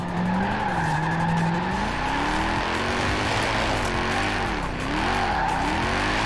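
A car drifts with a sequential gearbox and no clutch in Forza Horizon 4, its tires squealing loudly and steadily over a droning engine whose pitch wavers as the slide continues.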